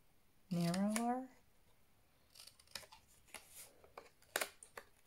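Scissors make a series of short, faint snips and clicks while trimming a piece a little narrower, following a brief voice at the start.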